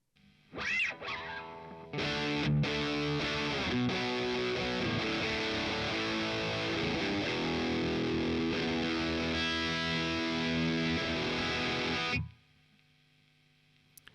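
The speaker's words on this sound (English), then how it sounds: "The distortion, just a regular distortion." Electric guitar through the regular distortion setting of a Boss Katana MK2 amp, a sustained crunchy chord wall that rings loud and steady for about ten seconds before stopping abruptly.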